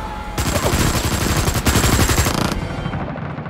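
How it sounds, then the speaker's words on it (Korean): A continuous burst of automatic gunfire in a film scene, a sustained rapid volley of warning shots that lasts about two seconds, loud and close, then dies away. "전방의 허공을 향해 위협자격 50발 발사."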